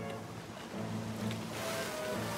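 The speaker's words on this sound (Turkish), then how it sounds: "Dalgalar kocaman olmaya başladı." Big ocean waves wash and surge in a Fireman Sam cartoon, a steady watery roar that swells louder midway and stays continuous with no talking.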